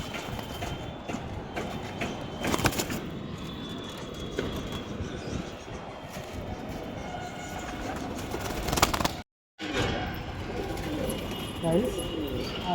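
Pigeons coo at a loft among line birds, including a Fulshira line pigeon, soft low calls under constant background noise with people talking nearby.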